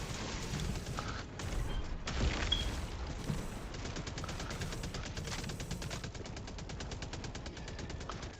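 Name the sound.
gunfire in the video game Helldivers II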